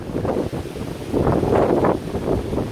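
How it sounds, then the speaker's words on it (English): Steady, gusty wind buffets the microphone at the rainy seaside in South Shields, a continuous close rumble that swells louder in the middle. "It's raining and it's windy"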